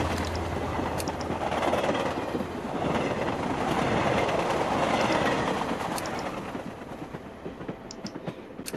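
A train running in the video game House of 1000 Doors, a loud continuous rumble with rhythmic clattering of wheels on rails, swelling in the middle and thinning toward the end, with no voices.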